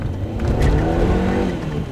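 A Peugeot 205 XS hatchback revs hard while being driven on the road, its engine note loud and close with a strained, buzzy roar that swells and holds steady, without any talking.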